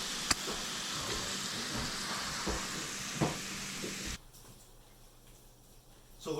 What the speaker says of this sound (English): So Lucas has got this bacon cooking.